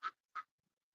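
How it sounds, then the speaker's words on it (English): Ducks at a homestead give two quick, nasal quacks in succession, close and clear against near silence. "Ducks are just laughing their asses off."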